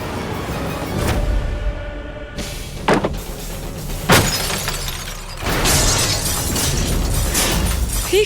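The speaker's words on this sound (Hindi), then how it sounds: "कांच का टूटना शुभ नहीं होता है, बहुत अशुभ होता है।" Glass shatters loudly in a dramatic TV serial scene, with several sharp crashing bursts and scattering debris spread over a few seconds, backed by tense music and no talk.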